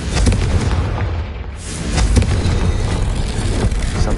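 A Confringo spell explosion in Hogwarts Legacy, heard as loud booming blasts with a dense, noisy rumble that swells, dips briefly and returns strong, filling the whole stretch close up.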